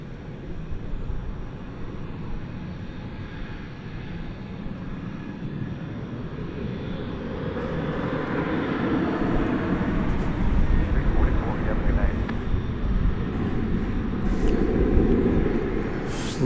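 An airliner taking off from runway 18 Left at DFW Airport at night, its jet roar building gradually from a distant rumble to a louder, broad rush, with radio chatter and voices talking over it.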